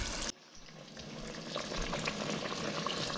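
Fried green tomatoes sizzle quietly in a pan over medium-low heat, a soft, steady crackle after a brief louder burst at the start, with no talk.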